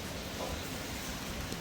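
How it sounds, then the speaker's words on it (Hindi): Heavy rain falls steadily outside, a dense continuous hiss that stays even and fairly loud throughout, with no voices or other sounds standing out. "ओ बारिश हो रही है बाहर तो अच्छी खासी"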